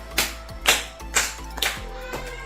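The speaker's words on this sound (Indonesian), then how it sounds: "Dua kali tepuk dua." A classroom group of children claps together in pairs, two quick claps followed by another pair, crisp and close with brief pauses between.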